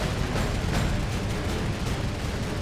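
Dense, continuous roar of rapid heavy gunfire and blasts from Focke-Wulf 190 fighters' 30mm cannons firing on bombers, loud and sustained throughout with no pauses.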